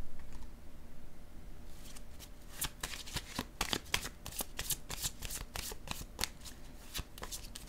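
Tarot or oracle cards are shuffled and laid down during a card reading, a close, quiet flurry of crisp riffling snaps and taps with no speech.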